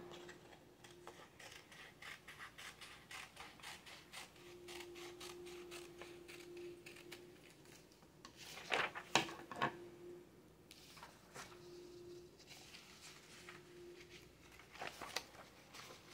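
Scissors trim a poster board angel wing, a soft, steady run of small ratcheting snips and creaks close by, with a few louder crunchy cuts and a faint tonal hum in the background.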